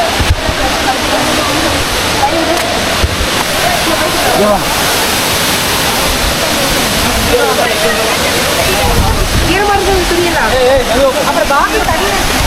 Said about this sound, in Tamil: ஃபால்ஸ் பார்க்குறீங்களா வேறு மாதிரி இருக்குது